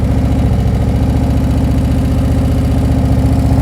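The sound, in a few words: motorcycle engine idling in first gear, clutch pulled in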